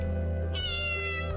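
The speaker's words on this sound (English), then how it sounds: "I want to face him and meow." A cat in a video game gives a single short, clear meow over a steady game soundscape with a low hum.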